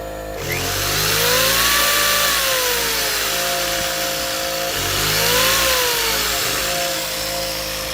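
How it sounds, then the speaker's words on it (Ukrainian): A two-stroke 0.7 kW portable generator runs under a light overload. Its loud, close engine drone rises and dips in pitch as the revs surge and hunt, with a harsh buzzing tone throughout. "Сам генератор ковбаситься."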